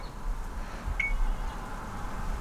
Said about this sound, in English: I don't like having the beeps on.